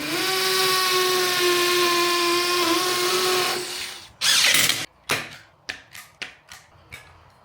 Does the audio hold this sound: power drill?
yes